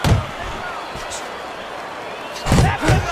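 Heavy thuds from a heavyweight boxing video game, a jab, uppercut and right-hand combination, with one impact at the start and a pair of louder hits near the end, over steady low crowd-like background noise.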